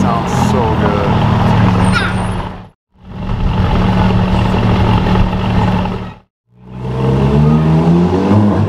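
A Lamborghini Aventador SVJ or Ferrari SF90 supercar engine revs loudly three times, each burst rising and falling with brief silences between, under a few nearby voices.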